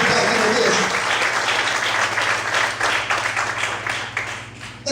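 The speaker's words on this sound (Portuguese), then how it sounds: "Pode dar um aplauso muito forte para Jesus?" A church congregation applauds in a dense, continuous wash of clapping that gradually thins toward the end, loud and close, with a steady low hum underneath and faint voices mixed in.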